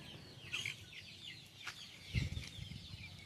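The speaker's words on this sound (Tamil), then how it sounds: "இந்த கோழிகளும் சாப்பிட்டுட்ருக்காங்க. எப்படி கொத்தி கொத்தி சாப்பிட்றாங்க பாருங்கள்" Chickens peck at grass nearby, giving soft low clucks and rustles with a few faint pecking taps, all quiet.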